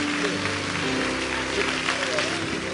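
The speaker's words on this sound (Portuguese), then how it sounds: "dê um aplauso ao Senhor" Applause at a church service forms a steady, dense wash of clapping from the congregation, with voices mixed in beneath it.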